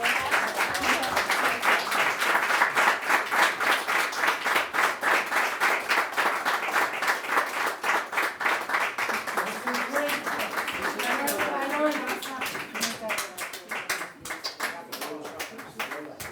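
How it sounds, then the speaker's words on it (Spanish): A lecture audience gives long, steady applause with dense, rhythmic clapping that fades slightly over time, while voices talk faintly beneath it near the end. "creo que este aplauso es merecido"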